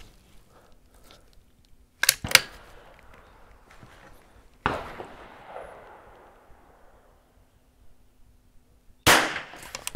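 Three sharp rifle shots ring out with clangs off steel targets, fired from a standing position on an NRL22 rimfire course, each crack trailing a ringing decay, spaced a few seconds apart with quiet range ambience between.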